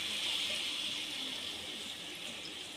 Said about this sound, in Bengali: কষানো হয়ে গেছে, এবার আমি জল দিয়ে দেবো।